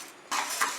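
Dry urad dal poured into a hot pan for murukku, a sudden rattling and scraping burst of grains against metal with brief clinks, loud and close after a quiet start.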